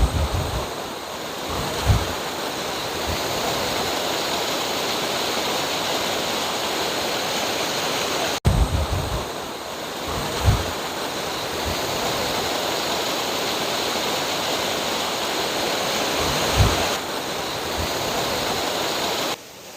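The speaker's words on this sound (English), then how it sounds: "Oh yes, this will be Lathkill Dale waterfall." Lathkill Dale waterfall in the Peak District, a steady broadband rush of falling water heard continuously and fairly close, with a few low wind bumps on the microphone.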